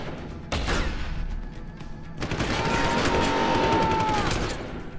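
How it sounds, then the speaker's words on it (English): Enemy shotgun fire in Deus Ex: Human Revolution Director's Cut on PC, heard as a loud burst of repeated blasts with crashing impacts and a dense game battle mix that carries on throughout. "They're shooting me with shotguns"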